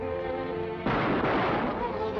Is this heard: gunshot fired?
yes